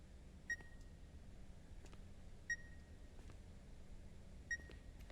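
Three short electronic beeps at steady two-second intervals in The Beast Inside horror game, thin and high-pitched over a low ambient hum, with no talking.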